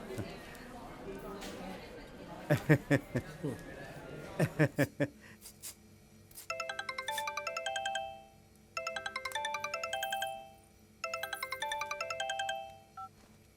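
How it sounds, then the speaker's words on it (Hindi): A mobile phone ringtone plays a repeating electronic melody in three bursts, following a few seconds of voices and sharp taps. "किसी पागल का फोन आ रहा है।"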